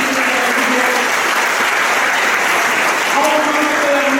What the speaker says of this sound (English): I want you to give applause to all the parents that are here,